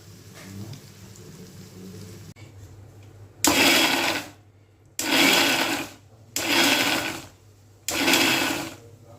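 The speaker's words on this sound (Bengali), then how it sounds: "এটাকে তাহলে আমি নামিয়ে মিক্সিতে গ্রাইন্ড করে নিই" A kitchen mixer grinder blends spice paste for doi begun in four loud, separate bursts of whirring, each lasting about a second with short pauses between, after a quieter opening.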